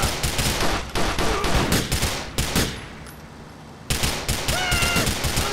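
Rapid bursts of gunfire in the biker action game GTA The Lost and Damned, loud and close, with sustained automatic fire broken by a short lull before the shooting resumes.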